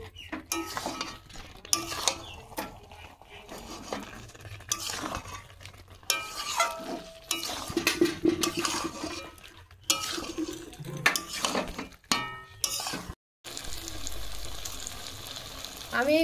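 Potato and pointed gourd being stir-fried in a pan with poppy seed paste, a spoon scraping and clattering against the metal in irregular bursts over a steady sizzle, close and fairly loud, briefly dropping out near the end.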